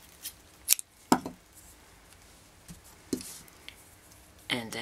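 Scissors snipping beading thread while a bracelet is being set up, giving a few sharp, close clicks spaced apart with quiet gaps between them and no talking over the cuts.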